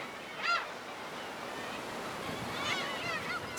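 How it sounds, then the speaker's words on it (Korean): Black-tailed gulls calling at a breeding colony on an offshore islet, two separate nasal, honking cries carried over a steady wash of surf and wind, moderately distant. "이곳엔 괭이갈매기도 있습니다."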